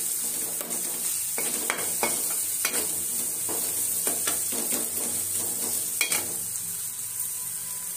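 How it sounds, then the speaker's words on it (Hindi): Turmeric, coriander and chili spice lightly roasting in a pan, with a steady sizzle under repeated scraping stirs of a utensil against the pan, close and moderately loud, with no talking. "तो अब हम इसमें ये मसाला डाल देते हैं, हल्दी धनिया मिर्च। इनको भी ऐसे ही हल्का भूनेंगे।"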